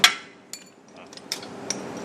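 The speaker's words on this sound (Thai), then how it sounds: "ในรถยนต์เนี่ยจริงๆแล้วต้องมีการกระตุ้นตอกมันนะครับ เพื่อให้ ให้ลูกหมากเนี่ย กระเด้งกระเด้งออกมาอย่างนี้นะครับ" A hammer strikes a car suspension ball joint to knock it out, giving several sharp metallic knocks at irregular intervals with fading ringing between blows.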